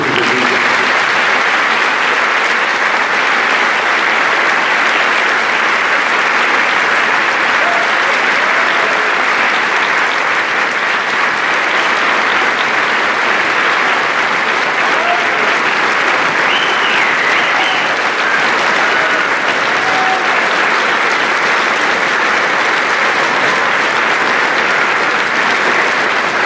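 Audience applause at a high school Veterans Day program, loud sustained clapping from a large crowd that holds steady and unbroken throughout.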